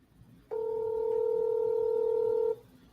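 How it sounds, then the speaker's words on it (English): Steady electronic telephone tone heard while a phone dials a contact's number, a single sustained two-pitch note lasting about two seconds, loud and clean over a faint background, with no talking. "it is dialing the Tech Boy number."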